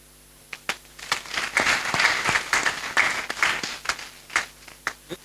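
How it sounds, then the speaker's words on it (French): Applause at a geomatics fair event at a Senegalese university, starting with a few separate near claps, then swelling into a moderate crowd of clapping hands before thinning out again. "Je voudrais que vous l'applaudissiez."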